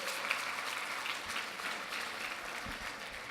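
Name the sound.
audience applause for the band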